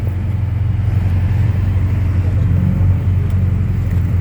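A Ferrari sports car rumbles past during a Formula 1 weekend in Montreal, a steady loud low engine drone holding for several seconds with slight swells, while voices talk faintly underneath.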